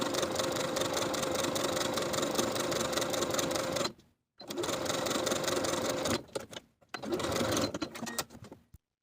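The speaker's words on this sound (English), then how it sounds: "I'm going to sew the hem in place, edge stitching close to the raw edge all the way around with a zigzag stitch" A sewing machine zigzag stitches a garment hem close to the raw edge, running in three loud sustained whirring bursts separated by brief stops, with no voices.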